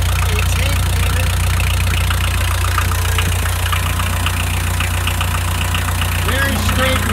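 A 1988 Bobcat 743 skid steer's Kubota four-cylinder diesel engine running at idle, a loud, steady low rumble with a knocking diesel texture, close by throughout.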